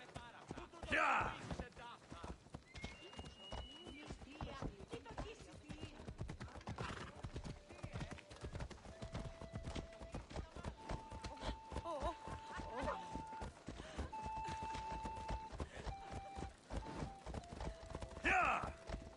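Rapid, rhythmic clip-clop of a ridden horse's hooves, close and loud and continuing throughout, with neighs and voices talking over the gallop.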